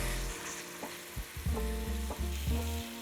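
Marinated pork hits hot sesame oil in a pan over medium-high heat, a close frying sizzle punctuated by several clunks and scrapes as the meat goes in.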